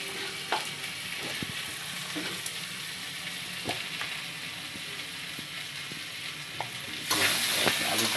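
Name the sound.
potatoes frying in oil for rui fish curry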